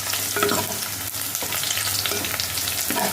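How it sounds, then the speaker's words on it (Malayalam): Dried red chilli sizzles and crackles in hot oil with browned onions for a Kerala coconut moru curry. The busy frying hiss is loud and continuous, with occasional stirring scrapes and no voices. "നമ്മൾ അതിൻ്റെ കൂടെ ഒരു വറ്റൽമുളക് എടുത്ത് വെച്ച് വറ്റൽമുളക് ഇടാം."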